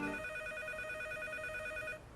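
A telephone rings with a steady electronic trill, continuous and fairly close, cutting off abruptly near the end.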